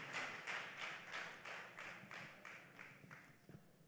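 Audience applause in a church welcoming a bishop, a crowd clapping in a steady rhythmic beat, about ten strong unison claps that gradually fade, with no voices.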